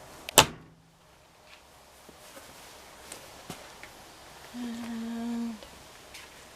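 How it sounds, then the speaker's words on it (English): An LG front-loading washing machine door swings shut with one sharp, close bang, followed by a few faint knocks and a short mechanical hum, with no talk. "close the door."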